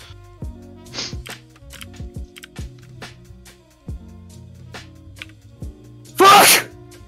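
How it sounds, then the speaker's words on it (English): A single violent sneeze bursts out loudly near the end, standing well above a quiet stretch of low thuds and game sounds during an online gaming session. "That's a very violent sneeze."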